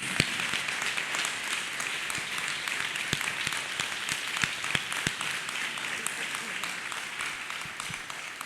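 Church congregation clapping hands in praise, a steady, fairly quiet wash of many overlapping claps with occasional sharper individual claps standing out, continuing evenly throughout.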